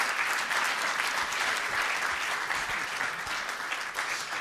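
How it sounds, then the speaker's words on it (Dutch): Sustained applause from a seated audience at a Dutch presentation and debate, dense steady clapping filling the room without a break. "Mag ik een groot applaus, mevrouw Schaak, de heer Van Gemert, de heer Van Eyck."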